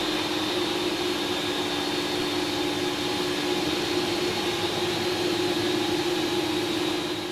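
Steady loud jet engine whine and roar of an airliner rolling toward the runway, a constant drone with a strong hum and high whistle, no pauses or voices.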